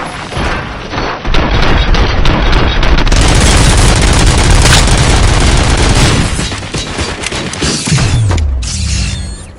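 Sustained gunfire from many weapons fired at will in the RoboCop film, loud and dense for several seconds with mechanical clatter, tapering toward the end.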